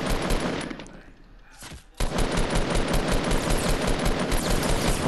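Fortnite gunfire rattles in loud rapid bursts, drops briefly to a quieter lull with a few shots, then resumes as sustained automatic fire.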